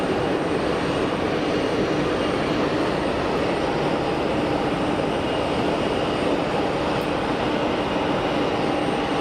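Airliner jet engines at Geneva Airport on a hot day, producing a steady, dense roar that holds constant throughout, broad and loud with no variation or voices.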